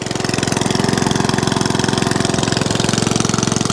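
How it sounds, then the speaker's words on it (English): Honda HRX 537 lawn mower engine running with its muffler missing, a loud, close, rapid and harsh exhaust chatter that pulses evenly throughout, with no talk. "It does sound very exhausty, but the muffler's gone."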